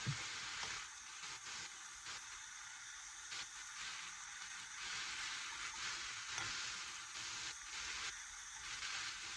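Rice noodles crackle and sizzle steadily in a hot frying pan, a continuous bright hiss with faint stirring and scraping throughout.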